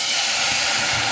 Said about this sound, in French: je vais y verser mon vin blanc, pour pas que ça crame non plus quand même